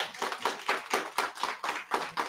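An audience claps in response at a jewelers' lucky draw event, steady rhythmic handclaps repeating for a couple of seconds with no talk over them.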